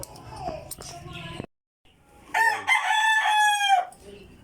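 A rooster with a wounded wing crows loudly nearby after some clucking and a voice, the crow rising and holding before trailing off.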